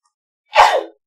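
A single short, sharp human sneeze, close and fairly loud, bursting out of silence and fading within half a second.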